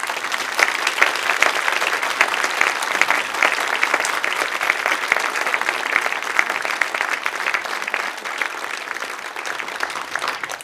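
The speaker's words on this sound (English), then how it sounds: "Can we have a round of applause?" Sustained audience applause for a silver band at a Corby heritage event, dense steady clapping from a large crowd filling the whole stretch before tapering slightly near the end.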